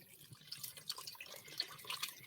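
Water and chicken stock poured into a soup pot with a ham bone in a home kitchen, a faint, trickling, splashing pour with small drips, fairly quiet and steady throughout.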